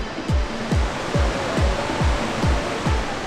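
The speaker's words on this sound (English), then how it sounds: "Cascada El Salto was most definitely flowing." Cascada El Salto in Mexico pours with heavy, continuous rushing water, a loud broadband roar that stays steady throughout, with low thumps recurring roughly every half second beneath it.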